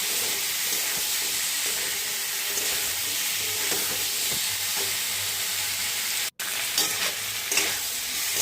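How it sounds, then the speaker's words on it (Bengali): Fried cauliflower is sautéed with a turmeric spice paste in a pan, giving a steady close sizzle with scraping stirs and one abrupt brief cutout before the frying resumes. "মোটামুটি কষিয়ে নেওয়া হয়ে এলে ভাজা ফুলকপিগুলোকে দিয়ে আর একটু সময় কষিয়ে নেব"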